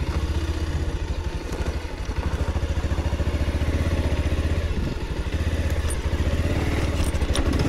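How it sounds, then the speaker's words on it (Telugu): A motorcycle rides along on the way to the Jangubai jatara festival, its engine putting out a steady close, rhythmic chugging throughout with a brief dip in the middle. "బైక్ని ఎక్కువ దూరం వద్ద ఇక్కడ పార్క్ చేసేద్దాం"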